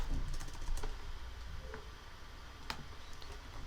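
Quick bursts of keystrokes on a computer keyboard, close and fairly soft, with irregular clicks clustered at the start and a few isolated taps later, over a low steady room hum.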